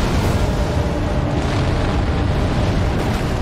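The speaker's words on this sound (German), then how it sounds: "Der explodiert jetzt erstmal von sich hin." A fire giant boss in Elden Ring bursting apart, a loud, dense, continuous roar of explosive rumbling that fills the whole stretch without letup, with no talking over it.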